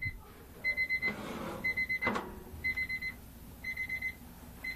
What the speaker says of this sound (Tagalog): Off lang po natin yung ating timer.